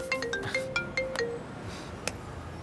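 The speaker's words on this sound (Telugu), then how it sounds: "ఫోన్ వచ్చినట్టుంది. నాకు వినిపిస్తుందిరా." Phone ringtone playing a bright, repeating melodic chime of quick tonal notes, fairly clear and close, ending with a sharp tap.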